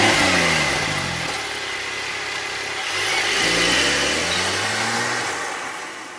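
A 2021 Porsche 911 Turbo S engine revs and accelerates on a track, its rising harmonic sweeps climbing, dropping and climbing again, loud and close with a steady roar and no talking.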